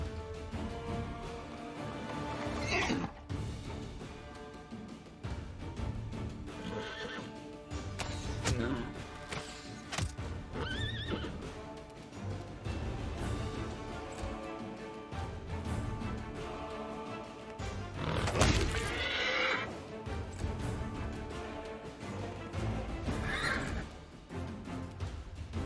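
Zombie horse in the Pathfinder: Wrath of the Righteous video game, neighing with galloping hooves amid battle clatter and thuds, a steady mix of game sound throughout.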